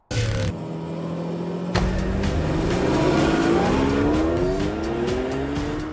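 A BMW SUV pulls away to begin a lap of a race track. Tyres squeal as the engine revs climb steadily up close, and a sharp jolt comes partway through.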